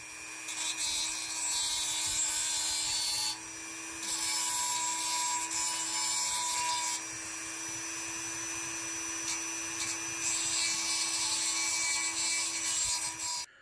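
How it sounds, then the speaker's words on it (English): Dremel with an aluminum oxide tip grinding and sharpening the edge of a giant steel sword, a continuous high-pitched whine with rasping bursts that rise and fall as the tool passes along the blade. "What we're using is a Dremel with aluminum oxide tip to buff out and sharpen the Dragon Slayer"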